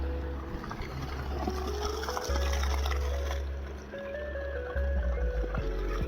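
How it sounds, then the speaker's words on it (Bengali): A motor pump runs as it pumps water in a village, a steady low mechanical hum under rushing, splashing water that keeps going the whole time. "মোটর দিয়ে পানি দিতেছে"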